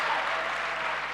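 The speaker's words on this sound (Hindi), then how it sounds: "एक बार जोरदार ताली बजाओ उस बच्चे के लिए" An audience at a spiritual teaching camp claps loudly for a child, a dense, even burst of applause that fills the whole moment without letup.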